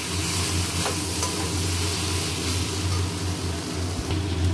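Dried lotte fish and potato curry frying and being stirred in a pan, a dense continuous sizzle with a low steady hum beneath, close and even for a few seconds.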